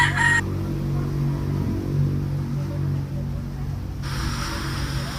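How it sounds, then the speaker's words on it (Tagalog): Backyard garden flock of domestic chickens making low clucking sounds over a steady outdoor background hum, with a brief brighter call near the start and again at the end. "Ito naman yung mga alaga nilang manok."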